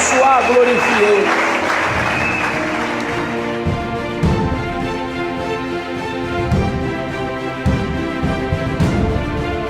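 Church congregation applauding in praise of the Lord, a steady wash of clapping running throughout with a sustained musical drone and harmonic tones underneath, fairly loud and continuous.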